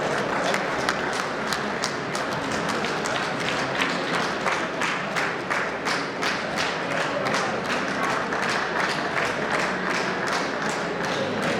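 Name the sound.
audience applause at assembly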